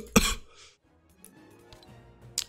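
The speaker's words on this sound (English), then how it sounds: "Apologies for my cough, guys" A single sharp cough bursts out close to the microphone, followed by quieter background sounds and a small throat noise near the end.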